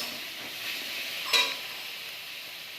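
Doi potol, pointed gourd cooked in yogurt, frying and being stirred in a home kitchen pan: a steady soft sizzle with one brief scrape of a utensil near the middle, close and fairly quiet.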